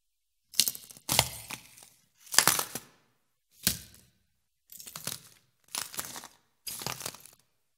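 Crunchy glass footstep foley from a Glass Crunch sound library, shaped with Reformer Pro: seven separate gritty crunching steps in an uneven walking rhythm, close and crisp, with silence between them and no talking.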